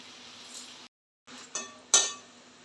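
A spatula clinks against a pan as safflower leaf greens are stirred into a hot onion tempering. A few sharp, close metallic clinks come after a brief silent gap.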